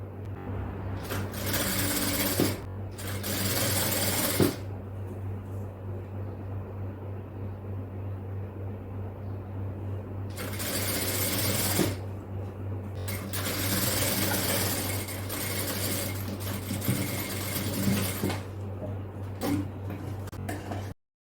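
Sewing machine stitching a folded hem, probably on tailored garment fabric, running in several bursts of steady whirring separated by pauses, with a constant low motor hum underneath throughout.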